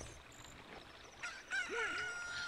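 A chicken in the Zelda Ocarina of Time video game crows once, a short rising-and-falling cock-a-doodle call that follows a faint clucking squawk, moderately loud against quiet game ambience.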